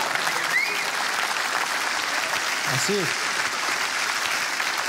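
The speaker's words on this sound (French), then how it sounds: "vous pouvez applaudir si vous voulez" Audience at a comedy festival opening gala breaks into loud, dense applause that holds steady, with a voice speaking briefly over it.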